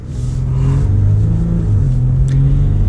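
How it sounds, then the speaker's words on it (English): A 2020 Ram 1500 Laramie EcoDiesel pickup with 3.92 gears accelerates, its diesel engine a steady low rumble that builds slightly and holds loud and close from inside the cab, without talk. "Let's get a little acceleration here."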